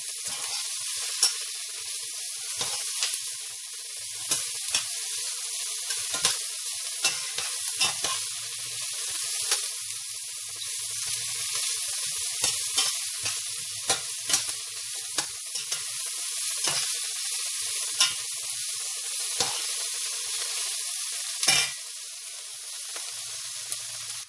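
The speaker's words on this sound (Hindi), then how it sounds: "तो यहाँ थोड़े से मैंने 1 मिनट सोते किया है प्याज को।" Onions sautéing in a pan for fried potatoes, a steady close sizzle with frequent scraping and stirring knocks from a utensil scattered throughout.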